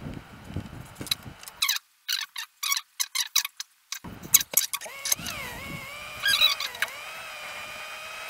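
A car engine in the video game The Long Drive cranks several times in short bursts, then catches and revs up into a steady rising whine, loud and close.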